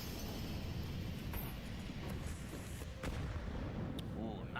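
A grenade blast in Counter-Strike 2 during a major esports playoff match is heard as a dull, booming burst amid dense, continuous game noise, with a commentator's voice faintly underneath.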